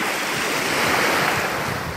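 Black Sea waves wash onto a beach in Odessa, a loud continuous roar of surf mixed with wind buffeting the microphone, with no voices.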